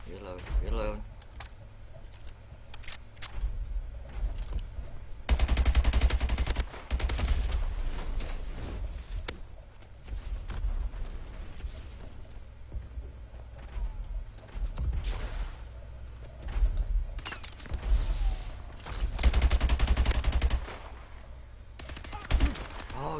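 Gunfire crackles in a multiplayer shooter game, with rapid bursts and scattered shots at close to moderate range that come and go in clusters under frequent talk.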